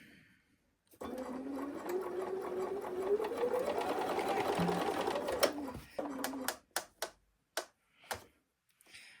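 A sewing machine stitches quilt pieces in one continuous run of about five seconds, steady and close. Then come several short separate bursts of stitching with pauses between them.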